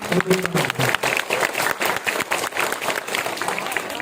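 A village audience claps for a teacher at a motivational speech in a rural camp gathering, giving dense, lively applause that carries on steadily, loud and close, with a few voices mixed in.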